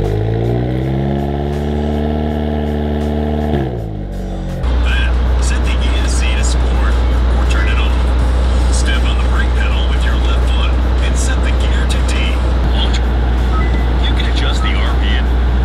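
Hyundai Veloster N engine held at high revs during a launch control attempt, a loud droning rev that drops off, then a deep steady rumble with other noise over it.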